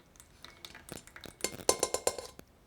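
A whisk clinks against a bowl while mixing a grated garlic sauce, starting with light scattered taps and building into a quick, bright series of metallic strikes, close and alone.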